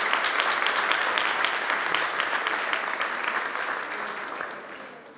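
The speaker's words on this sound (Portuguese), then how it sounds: "Vamos dar uma salva de palmas para eles" An audience at an evening church service applauds steadily, a dense, even clapping that holds strong before slowly tapering off toward the end, with no speech over it.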